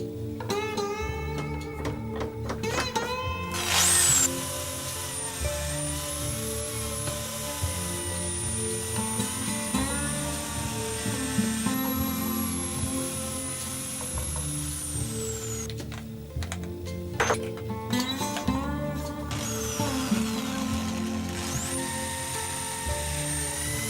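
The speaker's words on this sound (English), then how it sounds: "I'll take an old wooden handle and drill a hole in it for the pin." Power drill boring a hole into an old wooden handle in a home metal workshop, a steady whining motor with pitch shifts as the bit bites and eases, continuous and close, no talking.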